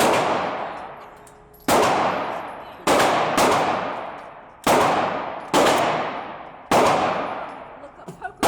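Six loud, close gunshots ring out at an outdoor shooting range, spaced one to two seconds apart, each with a long, fading echo.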